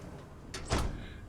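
A sliding door in the video game Starfield gives one short whooshing slide followed by a soft thud, quiet and close.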